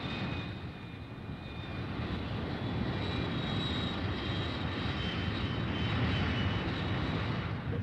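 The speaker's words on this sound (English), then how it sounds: "Back at the base, the fighter bombers take off." Fighter bombers taking off from an air base, a steady loud aircraft engine roar with a faint whining tone that swells slightly as it continues, with no talking.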